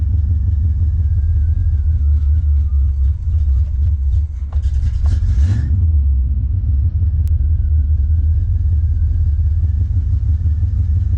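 A classic Chevrolet Camaro engine idling just after a cold start, a loud, steady low rumble close by throughout, with a brief rise in mechanical noise midway and no talking.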